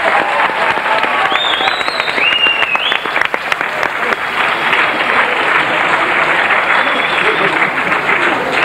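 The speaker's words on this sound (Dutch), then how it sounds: "Ik zou willen vragen voor de spelers, Sjouk, nog eenmaal applaus." Sustained applause from a large crowd after a school musical performance, dense and steady clapping throughout with a few whistles rising above it.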